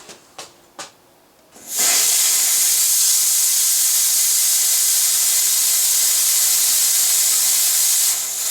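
A FOG 1200/2 smoke machine blasts a powerful fog jet after a few short clicks, a loud steady hiss holding for about seven seconds before tapering slightly at the end.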